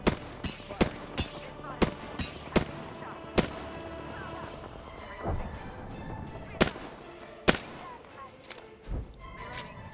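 Repeated gunshots in the battle royale game Apex Legends, sharp loud cracks at irregular intervals with a few heavier blasts, set against steady game ambience.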